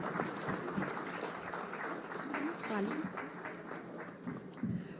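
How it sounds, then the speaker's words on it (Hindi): An audience at a Jharkhand government digital governance event claps in welcome for the chief minister, a low, continuous patter of many hands heard from a distance, with voices murmuring through it. "तालियां आप सबकी तरफ से जरूर होनी चाहिए।"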